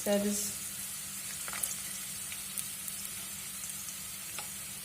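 Carrots fry in hot oil in a pan, giving a steady, low sizzle that runs throughout, with a louder burst at the start and a few faint clicks of stirring.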